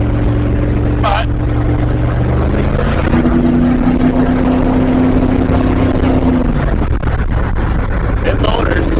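A 1955 Chevy with a big-block V8 cruising at about 3,000 RPM, a steady interior engine drone that shifts pitch slightly, with someone talking over it.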